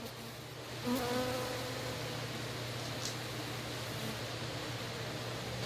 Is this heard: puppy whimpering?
no